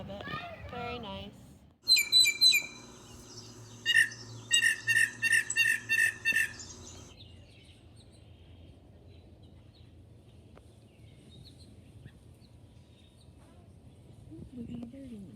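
A small bird chirps in a tree near hanging pine cone feeders, a brief burst of bright repeated tweets and whistles after a voice, then quiet outdoor stillness.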